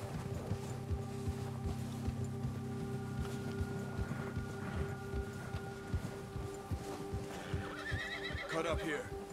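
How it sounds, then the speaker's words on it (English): Horse whinnying with hoof clip-clop in Red Dead Redemption 2, set against steady game music and background ambience, with a louder whinny near the end. "Get that horse in line, Arthur."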